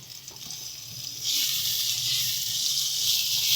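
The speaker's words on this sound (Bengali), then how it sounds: "ভালো করে মশলা দিয়ে আলু আর কাঁচা কলাটাকে কষিয়ে নেব।" Potatoes and green banana sauté with spices in a hot pan, first quiet, then a steady, bright sizzle rises and holds to the end.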